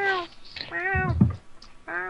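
A cat meows several times in short, tonal cries, close by, with a brief rustle or thump between calls.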